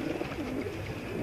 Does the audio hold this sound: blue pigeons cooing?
yes